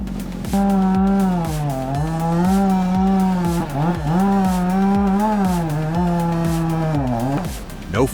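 A chainsaw cutting into a tree runs loud and close, its engine holding a steady high whine with repeated dips in pitch for about seven seconds before it stops.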